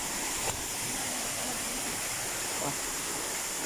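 A waterfall over bare rock at a hidden bathing spot, a dense, steady roar of falling water heard from nearby, continuous and even throughout.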